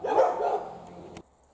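A single dog's bark on a country walk, one close drawn-out yelp that cuts off abruptly, leaving quiet outdoor air.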